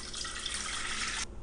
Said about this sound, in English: First thing I do, pour water.